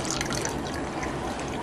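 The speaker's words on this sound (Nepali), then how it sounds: "यहाँ यसरी 100 ml पानी हाम्रो फनेलमा हाल्छौँ।" A 100 ml water sample is poured into a filter funnel during drinking-water testing, a close, continuous splashing trickle of liquid running steadily for the whole moment.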